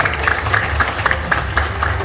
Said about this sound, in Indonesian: terima kasih tepuk tangan yang sangat meriah untuk Bapak Didit Eko Ardianto